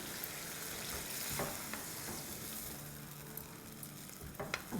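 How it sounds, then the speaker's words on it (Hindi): Chicken korma with yogurt and cashews being stirred in a pan, a steady soft sizzle running throughout with a few louder scrapes and clinks of the spoon near the end. "चले इसको अच्छे से मिक्स करते हैं"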